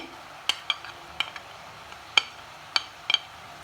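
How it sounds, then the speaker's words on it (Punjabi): Garlic, ginger and onions frying in a pan as a masala base, with a soft steady sizzle under a series of sharp metallic clinks and scrapes from stirring, roughly seven taps spaced irregularly. "ਤੇ ਹੁਣ ਅਸੀਂ ਪਿਆਜ਼ਾਂ ਦੇ ਨਾਲ ਹੀ ਇਹਨਾਂ ਨੂੰ ਥੋੜੀ ਜਿਹੀ ਭੁੰਨ ਲਵਾਂਗੇ"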